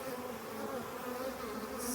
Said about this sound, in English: Lots of bees though, so I'm going to put them into the hive.